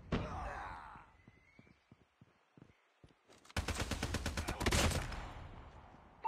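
Sentry gun in Call of Duty Mobile's undead mode opens up in a loud, rapid burst of automatic fire lasting about a second and a half, after a stretch of quieter scattered clicks and thuds.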